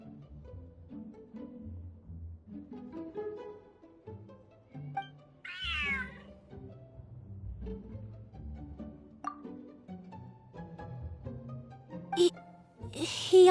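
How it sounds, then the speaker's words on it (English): Large cat in Genshin Impact meows with a rising, wavering call around the middle, set over game background music and sounds; another short cry comes near the end. "Whoa, this cat is way bigger than the others."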